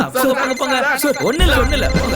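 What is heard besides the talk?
mobile phone ringing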